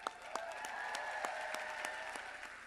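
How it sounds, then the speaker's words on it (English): Audience applause at a YouTube creators' talk, a dense wash of many hands clapping with sharp, regular individual claps standing out in a steady rhythm, fairly distant and soft. "Now clap up these YouTubers here."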